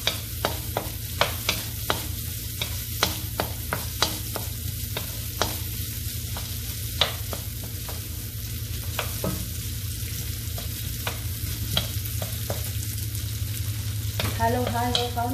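Garlic sautéing in a pan produces a steady low sizzle under a constant hum, punctuated by regular scraping and tapping from a spatula, close and sustained, with a brief flurry of louder stirring near the end.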